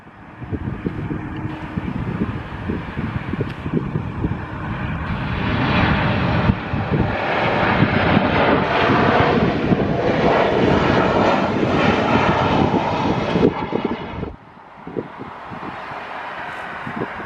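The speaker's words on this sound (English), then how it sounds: "Here we go from Porto. We have a Ryanair Boeing 737." A Ryanair Boeing 737 in from Porto at Stockholm Arlanda roars past as a loud, broad jet-engine rush that swells and then eases, with some wind buffeting and no voices.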